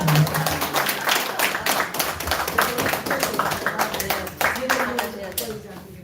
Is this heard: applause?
yes